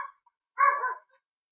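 A dog gives a short excited bark, then a longer yipping bark burst, close and clear against silence.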